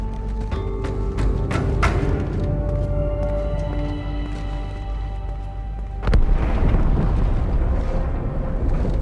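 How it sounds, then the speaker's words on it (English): A deep, rumbling explosion in a Halo 2 Anniversary cutscene, aboard the Athens; a sustained low roar with a sharp louder burst partway through, mixed with music and ambient game sound. "That explosion came from inside the Athens, same as the Malta."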